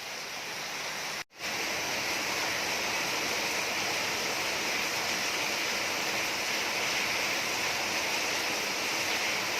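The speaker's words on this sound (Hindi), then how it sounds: "तूफानी बारिश हो रही है।" Heavy stormy rain pours outside in a dense, steady hiss that fills the whole stretch, broken only by a brief gap near the start, with no voices over it.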